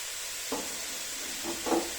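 Carrots, green beans and root vegetables stirred in bacon fat in a pan: a few faint scraping stirs and a soft sizzle over a quiet hiss.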